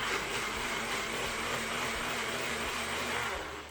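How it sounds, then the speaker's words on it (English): A blender purees cauliflower, its motor whirring loudly and continuously, a steady high-pitched mechanical drone that holds the whole time and eases slightly at the end. "We put it in the blender."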